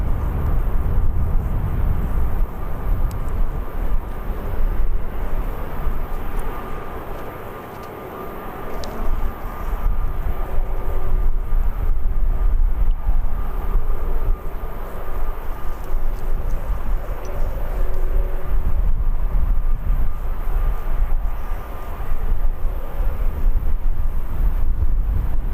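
Turkish airliner touching down at Birmingham Airport, a loud continuous engine roar with wind rush that dips briefly and then swells again, steady throughout.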